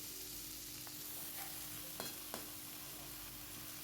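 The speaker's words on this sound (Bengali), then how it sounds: "আর সবজিটা আমি আগে একটু ভেজে নেব" Vegetables frying in a pan, with a steady, dense hiss of sizzling oil and a couple of faint clicks from stirring, close and even throughout.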